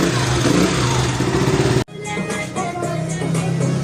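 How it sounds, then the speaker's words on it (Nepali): The engine of a motorcycle repaired after an accident runs close by, a loud, steady mechanical drone that breaks off briefly midway, then resumes at a lower, idling level with light clatter. "साउन्ड पनि राम्रै आइरहेको छ त है"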